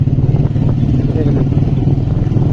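A motorcycle riding through narrow village lanes, the engine's low steady drone close by, with someone talking over it the whole time.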